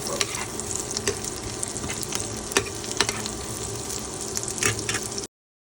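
Chopsuey ingredients sizzling in butter in a pan, a steady close frying hiss broken by occasional stirring clinks and scrapes, with no voices.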